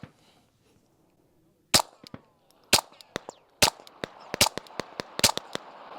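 A 9mm handgun fired through a CGS Kraken suppressor: after a quiet start, a quick series of sharp, clipped cracks follows, roughly a dozen shots in uneven succession, close and clear with no talking.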